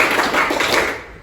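A classroom group claps hands together in a counted rhythm pattern, a short burst of several overlapping claps that fades out after about a second.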